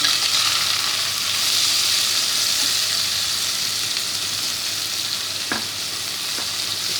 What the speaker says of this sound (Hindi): अब हम इसमें प्याज शामिल करेंगे। ये 2 दरमियानी हमने काटी थी बारीक।